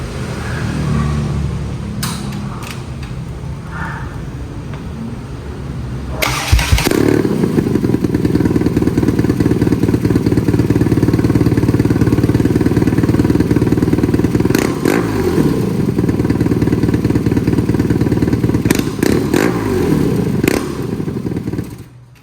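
A 2021 BMW R nineT Classic motorcycle fitted with a slip-on exhaust starts and idles, then revs hard, a loud close engine roar holding steady with throttle blips and clattering between.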